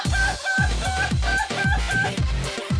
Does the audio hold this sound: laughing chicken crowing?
yes